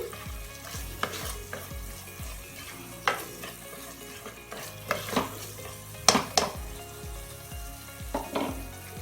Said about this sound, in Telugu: అల్లం వెల్లుల్లి పేస్ట్ కూడా 1 నిమిషం ఫ్రై అయిపోయింది. ఒకసారి కలుపుకొని ఇందులోకి టమాటాలు వేసుకోవాలి.